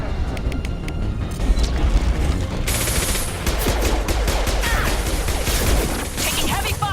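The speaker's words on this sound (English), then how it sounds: "Taking heavy fire!" Heavy, sustained automatic gunfire in a Mass Effect 2 firefight: loud dense rapid bursts that grow thicker partway through, mixed with crashes and mechanical clatter, and no voices.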